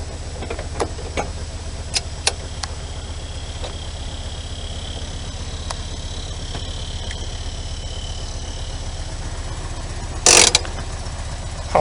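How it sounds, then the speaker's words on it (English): A 1973 VW Super Beetle engine idles steadily with a low, even rumble, punctuated by a few faint clicks and a brief burst of noise near the end. "Got the car cranked up, we're idling here."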